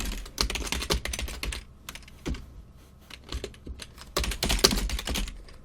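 Bursts of rapid keystrokes on a computer keyboard while typing game code, close and clear, broken by short pauses between flurries.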